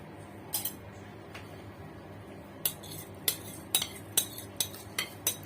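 A metal spoon scrapes and taps against a clay pot as washed, drained rice goes in. The clinks come close and quiet, a few scattered at first and then a steady run of them.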